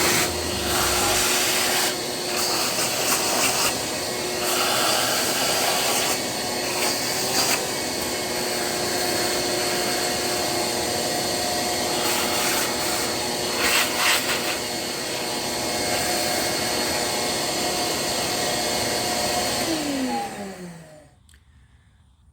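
A shop vacuum runs steadily for about twenty seconds, sucking debris out of the engine of a 1983 Honda GL1100 motorcycle, with scraping and rattling as the nozzle works, then winds down at the end.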